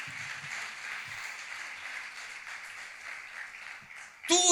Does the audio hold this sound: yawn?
no